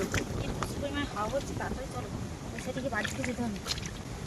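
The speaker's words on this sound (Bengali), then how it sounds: "হঠাৎ করে কিন্তু প্রচন্ড জোরে হাওয়া হচ্ছে" Sudden strong, gusty wind buffets the microphone in a continuous roar while people talk over it, in the Sundarbans at high tide during night crab catching.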